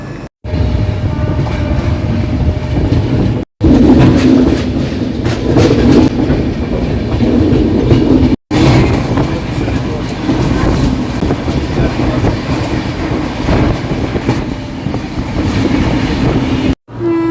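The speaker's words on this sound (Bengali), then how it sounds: "আর গলগলিয়ার থেকে ট্রেন কিন্তু ছেড়ে দিল।" Train 13149 from Alipurduar to Sealdah, heard from inside an economy coach, runs on its rails near Siliguri with a loud continuous rumble and rhythmic clatter. A sustained horn-like tone and faint voices come through at points.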